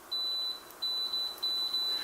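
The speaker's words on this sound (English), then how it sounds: "We'll just use our multimeter on continuity, listen for the beep." A multimeter set to continuity beeps while probing a glass fuse from a NuTone NA300TA low-voltage transformer: five short, steady high-pitched beeps in quick, uneven succession, clear and alone.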